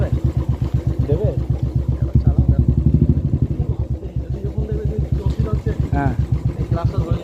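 A Royal Enfield Bullet motorcycle engine runs close by with a steady low thumping pulse throughout, while people talk over it.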